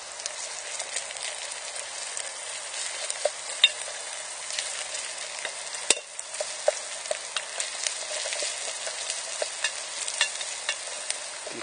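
Onions and carrots fry in a pan with a steady, fairly quiet sizzle, broken by small crackles and scraping stirs, with no voices.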